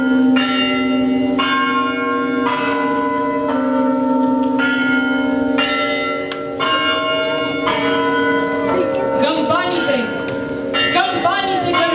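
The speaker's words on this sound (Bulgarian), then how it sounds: "Камбаните гърмят." Church bells ring out in a loud, continuous peal, overlapping strikes blending into a rich sustained ringing that fills the whole stretch.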